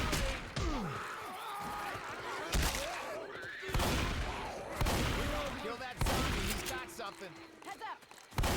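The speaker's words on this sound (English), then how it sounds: "Surely she won't hear me firing off my gun." Video game gunfire: several sharp, loud shots spaced about a second apart in irregular bursts, with talking and other game sounds between them.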